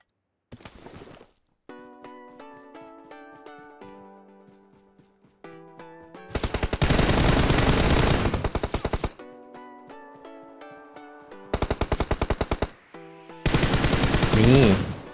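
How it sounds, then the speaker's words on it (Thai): Enemy gunfire in the PUBG Mobile video game, with dense sustained automatic bursts crackling loudly in several long volleys between stretches of game tones and music, and a voice talking in places. "จังหวะเมื่อกี้นี่ผมโดนศัตรูยิงใช่ไหมแล้วผมก็เข้าที่กำบังนะครับ"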